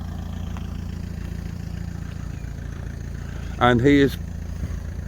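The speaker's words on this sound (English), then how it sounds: "quietly, confidently reversing the caravan into a skip" A car engine running at low revs while reversing a caravan, a steady, low idling hum throughout, with someone talking briefly over it.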